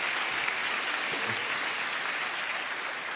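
Applause during a robotics demonstration of Sony's android robot, a steady even wash of clapping held at a constant level throughout, fairly distant and diffuse with no voices standing out.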